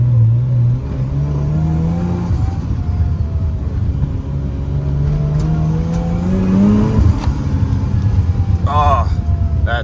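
A Mazda FC RX7 under restoration, with new transmission mounts fitted, drops off throttle. The engine drone sags and wavers unevenly as the load unloads, staying loud and close throughout.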